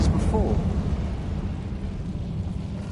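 Incendio fire spell cast in Hogwarts Legacy, a brief burst of flame whooshing up loud at the start, then a rumbling roar that slowly fades under a low game soundscape.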